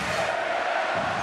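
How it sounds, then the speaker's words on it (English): A packed basketball arena roars during a Greece versus Italy EuroBasket group game, a dense, steady wall of crowd noise with no breaks. "here you can hear this arena roaring in this all-important game"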